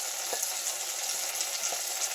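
Chili powder and coriander powder frying in a curry pan for spicy chicken curry, a steady even sizzle with a few soft taps of a spoon or spatula, no voices.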